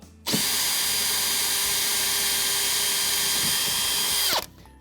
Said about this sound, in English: So I'm using a 6mm drill bit. I'll drill through the pilot hole.